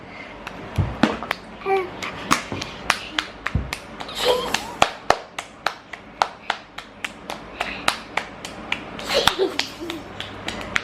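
A young girl claps her hands over and over in sharp, uneven bursts, close by, mixed with her babbling and happy squeals.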